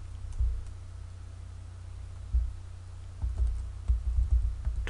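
Keys clatter on a computer keyboard as a URL is typed into an Excel window, a few soft, close bursts of clicks with pauses between them and no talking.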